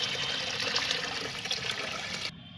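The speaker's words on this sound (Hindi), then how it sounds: "तो मैं इसमें डाल रही हूँ 3 लीटर पानी" Three litres of water pour steadily into a container of concentrated liquid fertilizer, a continuous splashing rush that cuts off abruptly near the end.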